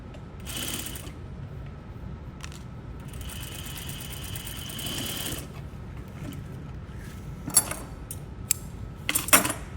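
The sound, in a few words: sewing machine stitching over boning on fabric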